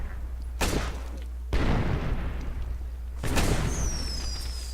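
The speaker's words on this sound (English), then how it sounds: "look at the fireworks." Fireworks bursting in the zombie survival video game State of Decay Lifeline: three heavy booms with broadband crackle spaced over a few seconds, over a steady low hum, ending with a rising whistling streak.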